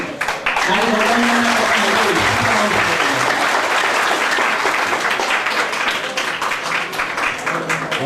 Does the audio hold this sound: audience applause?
yes